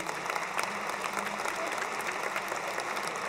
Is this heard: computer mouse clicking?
no